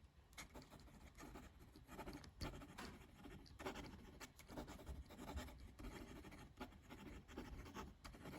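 Jinhao x850 fountain pen nib writing quickly on paper, a close, steady scratchy rasp of broken strokes with short pauses between letters, no talking.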